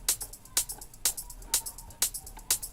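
A short, chopped drum top loop of crisp percussive hits and bright cymbal ticks repeating in a tight, steady groove, close and fairly quiet.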